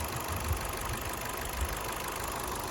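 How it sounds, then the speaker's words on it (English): A Ford Fiesta Zetec S engine idles steadily with a low, even rumble, close by and uninterrupted, with a bit of wind noise in the background. "And the engine sounds sweet."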